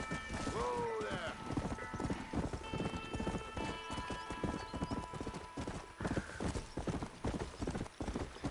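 Rapid hoofbeats clatter in a galloping rhythm in Red Dead Redemption 2, with a horse whinnying and a voice talking over the top.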